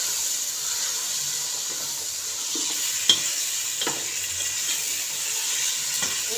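Chicken with red chili spices stirred in a frying pan, a steady close sizzle and hiss with a few soft scraping knocks from the spoon, no voices.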